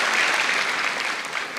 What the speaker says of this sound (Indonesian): Tepuk tangan dong buat Balai Sarbini